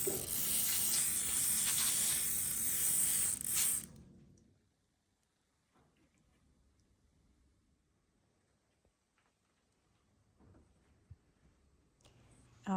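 A steady hiss of oil spray mist over pastry rolls in a baking tray runs for a few seconds, then cuts off, leaving faint handling noises and a few small clicks.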